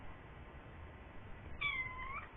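A house cat gives a single faint meow late in the short stretch, otherwise low background hiss.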